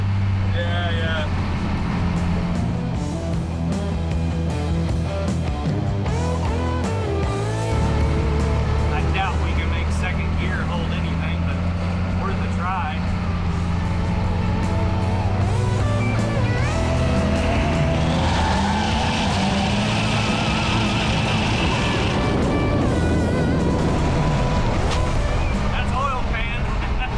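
A 1975 C10 pickup swapped with a 6.7 Cummins diesel does a burnout, its loud engine roar rising alongside screeching tire squeal, with people talking over the noise.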